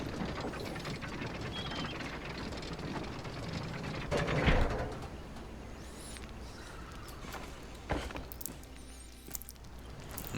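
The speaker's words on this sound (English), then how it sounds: "But for now, we'll just take the elevators." An elevator mechanism runs inside a castle in the video game Conan Exiles, giving a continuous, close grinding and ratcheting clatter with a few louder clanks along the way.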